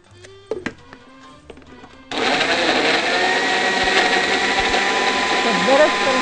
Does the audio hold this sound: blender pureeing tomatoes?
yes